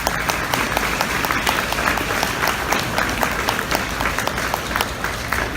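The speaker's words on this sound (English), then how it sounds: "give yourself a round of applause" Parents in the audience at a school orchestra spring concert clap in a dense, continuous round of applause that fills the room evenly from start to finish.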